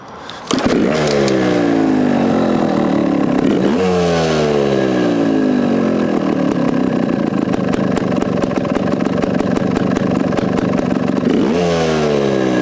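A small two-stroke engine of a Vertigo Nitro JBR 300 trials motorcycle catches and runs loud and close, its rapid popping exhaust note rising and falling with short blips of throttle.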